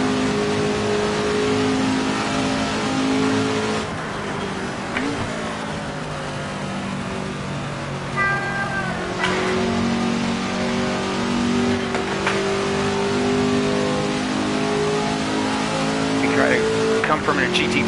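A 1966 Ford GT40's American-made V8 in Assetto Corsa on PS4 revs and drones continuously at Monza, pitch rising and falling with gear changes, while a voice talks over it throughout.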